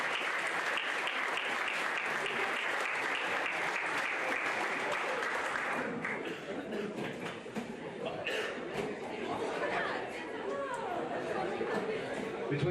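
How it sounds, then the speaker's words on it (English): Audience at a high school spring sports banquet giving a round of applause, loud sustained clapping from many people that thins out midway, with chatter and voices mixing in. "Nice round of applause,"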